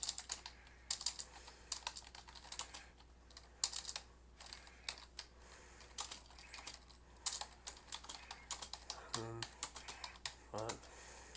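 A computer keyboard is typed on in quick irregular bursts of close, crisp key clicks while a sentence is written, with brief spoken words in between.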